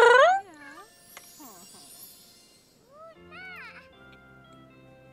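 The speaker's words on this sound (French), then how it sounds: "on a un petit chat à la maison" A newly adopted kitten in The Sims 4 gives a series of clear, high meows with pauses between them, alongside soft game sounds and a brief bit of talking.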